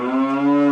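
A single short cow moo, loud and close, tonal and steady, standing alone without any speech.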